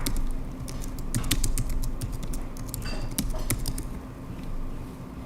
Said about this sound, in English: I'm just going to type into Google, search